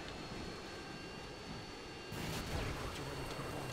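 Harrier jets from the video game Call of Duty: Modern Warfare 2 fly in, a steady jet roar that abruptly swells louder partway through and holds, with no talking.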